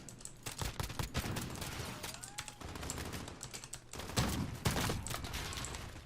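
Pistol fire in the video game Call of Duty Modern Warfare: fairly quiet, rapid bursts of gunshots in a busy firefight, mixed with light clicking and no talk.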